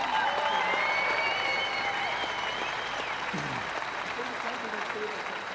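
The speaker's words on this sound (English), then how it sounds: "Give them a big round of applause." A crowd at a 2001 strongman contest between Scandinavia and Canada applauds Team Canada in a loud, sustained wash of clapping and cheering, with an announcer's voice carrying over it.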